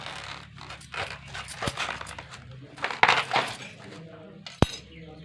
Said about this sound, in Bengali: প্রথমেই কচুর এই উপরের অংশটা কেটে বাদ দিয়ে দিলাম